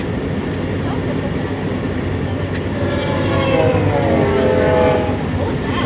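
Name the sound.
BNSF intermodal freight train passing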